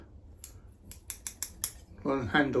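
Long-handled pruning snips cut a Chinese elm bonsai, giving about six crisp, close metallic snips in an irregular rhythm. A voice follows at the end.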